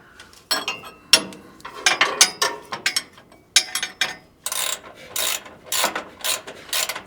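A hand ratchet clicks in uneven bursts while steering parts are tightened on a 1946 Chevy truck, its metallic ratcheting strokes close and crisp, separated by brief pauses.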